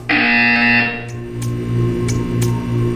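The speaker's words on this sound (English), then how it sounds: "You will hear a buzzer. When you hear the buzzer, stare at the art." A loud electronic buzzer from the video game Portal 2 blares in a steady, harsh tone for nearly a second. It then drops to a quieter hum with a few sharp clicks.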